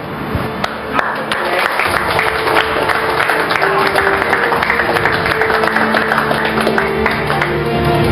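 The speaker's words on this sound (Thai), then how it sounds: "ผมขอปรบมือให้ทุกคน" Assembled police officers applaud together at a station gathering, a dense, steady burst of clapping for about eight seconds, fairly loud and close, with faint background tones beneath.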